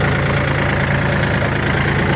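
A tractor engine idles continuously, a steady, low, deep rumbling drone with a faint rhythmic throb and no voices.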